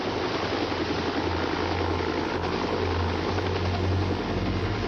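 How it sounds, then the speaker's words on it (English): A medical helicopter departs with a patient, its rotor and engine a steady, loud, close roar that fills the whole clip with no talk. "the medical chopper arrived to transport her to the hospital"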